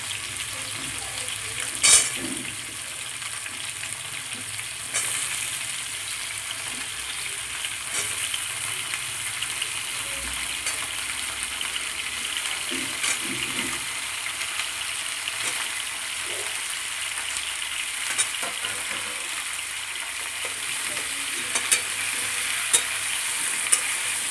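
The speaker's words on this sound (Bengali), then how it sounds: "পটলগুলো ঠিক লাল করে ভেজে নেব" Pointed gourd pieces fry in oil in a pan with a continuous crackling sizzle, broken by a few sharp clinks of a spoon against the pan over a long stretch.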